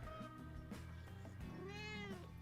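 A pet cat called Princess, settled on a lap, lets out a couple of clear, close meows, the second longer and rising, over a soft background hum.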